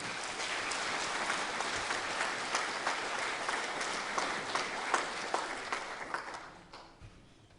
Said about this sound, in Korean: 여러분 힘찬 박수로 모시겠습니다